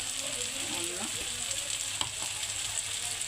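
Coriander powder goes into a hot pan and sizzles with a steady, close frying hiss. A couple of light stirring scrapes can be heard over it.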